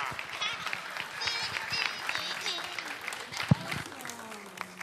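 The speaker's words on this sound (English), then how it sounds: "all right, give another round of applause." Audience applause and clapping fills the room at a board of education meeting, steady and moderately loud, with crowd voices mixed in underneath.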